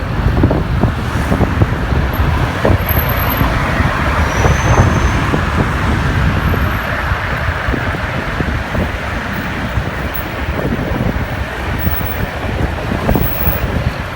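Dense, steady road noise from congested traffic near a market in Bang Kruai, Nonthaburi, a loud continuous rumble of engines and tires with wind buffeting, no talk.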